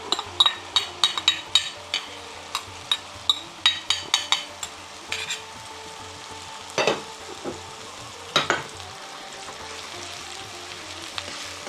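Chicken tikka masala with tomato paste and puree is stirred in a pan, a low sizzle under a regular run of metal utensil clinks against the pan that thin out toward the end.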